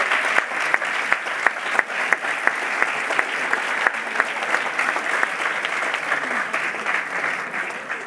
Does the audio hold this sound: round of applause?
yes